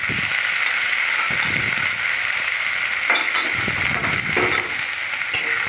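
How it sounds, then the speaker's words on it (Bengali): Ginger and green chilli paste fries in hot oil with a loud, continuous sizzle, while close, intermittent scraping and clatter come from steady stirring. "ভালো করে নাড়াচাড়া করে কষিয়ে নিচ্ছি তেলের সাথে"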